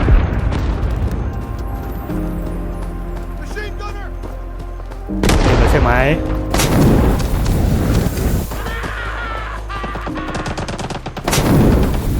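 Base artillery fire in Rising Storm 2: Vietnam: heavy booms and rapid gunfire bursts over a loud battle soundscape, with whistling projectiles and repeated explosive thuds.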